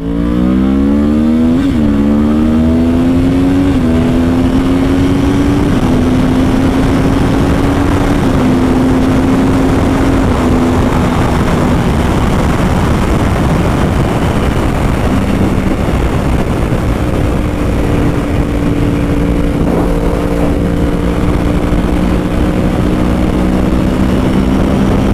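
Yamaha R1 sport motorcycle engine revving and accelerating while riding, a loud continuous drone that climbs through the gears with steady wind noise, no talking.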